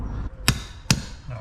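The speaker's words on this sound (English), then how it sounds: "I'll just punch my way through with my plugging chisel." A plugging chisel is driven through concrete bedding while excavating stepped foundations in a garden: two sharp, loud metallic strikes land about half a second apart over low background rumble.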